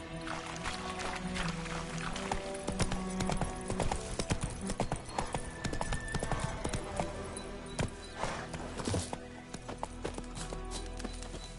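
Roach, a horse in the Witcher III video game, trotting with steady clip-clopping hooves, close and rhythmic, over a continuous wet, watery background, with faint speech in places.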